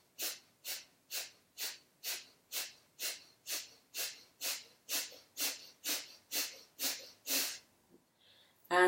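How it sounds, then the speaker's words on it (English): Light, rapid yoga breath of fire: about fourteen short, even nasal exhalations in a steady rhythm, close and clear, then a brief pause and a small rustle. "a very light breath of fire, or long deep breathing"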